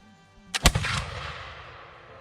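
A black powder gun fires after its pan is primed: a brief fizz from the priming, then one loud, close blast that trails into a long fading rumble.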